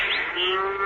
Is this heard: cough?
no